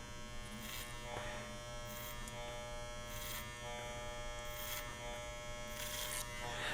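A Capri electric hair clipper buzzes steadily as it cuts hair over a comb, a continuous close motor hum with periodic brighter bursts as the blades bite through hair, no talking.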